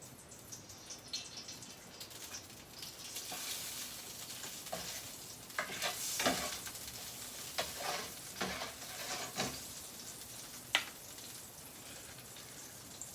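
Butter sizzling in a pan for Filipino-style paella makes a faint, steady hiss with irregular spattering pops and one sharp crackle near the end.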